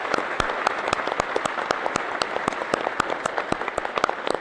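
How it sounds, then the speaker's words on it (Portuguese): A church congregation applauds together during a Sunday worship service, sustained clapping with sharp individual claps standing out over a steady wash throughout. "Palmas para a comunidade, para vocês, pela nossa comunhão."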